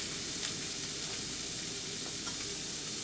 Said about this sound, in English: when that gets hot enough, we're going to add 1 small onion